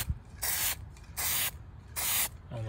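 Spray paint hissing onto a 1957 Chevy in three steady bursts, each lasting about a third of a second with short pauses between, loud and close, with no voices.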